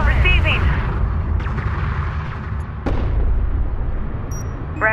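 Railguns and explosions rumble and boom through a Homeworld: Deserts of Kharak battle, with one sharp blast near the middle, under radio chatter and alert voices.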